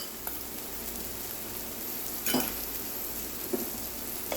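Green chile sauce with fresh cilantro sizzles quietly in a pan, a soft steady frying hiss broken by a few faint clinks of a utensil.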